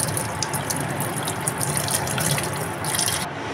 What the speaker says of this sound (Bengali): এবার আমরা ছাঁকনিতে ভালো করে জল দিয়ে ছানাটাকে ধুয়ে নিয়েছি।